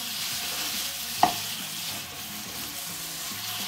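Pork sausage meat, taken out of its casing, sautés in olive oil with a continuous even sizzle and one sharp clack of a utensil against the pan early on.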